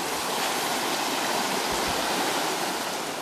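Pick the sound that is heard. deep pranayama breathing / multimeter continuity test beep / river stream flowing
river stream flowing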